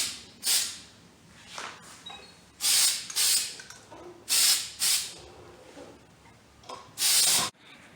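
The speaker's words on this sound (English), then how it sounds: "So here it is after the first day of spraying the silver glitter." Silver glitter spray paint going onto a guitar: short hissing bursts from a spray can, some brief and some held longer, separated by quiet gaps.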